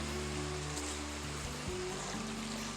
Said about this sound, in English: the water's flowing really well right now.